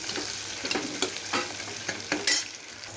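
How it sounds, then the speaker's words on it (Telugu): Onion masala with curry leaves sizzling and frying in a pan for a stuffed brinjal curry, a steady close crackle broken by a few soft stirring scrapes. "కొద్దిగా వేగనిద్దాం"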